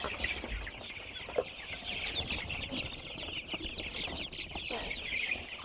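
Many broiler chicks peeping and clucking together in a dense, continuous chorus, with faint rustling underneath.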